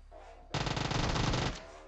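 Dense burst of automatic gunfire in PUBG Mobile, loud and close, a rapid string of shots lasting about a second after a quieter lead-in.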